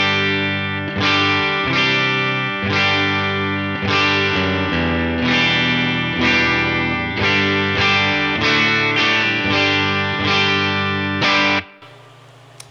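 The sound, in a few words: electric guitar Fender clean tone, Tone King Imperial, HX Stomp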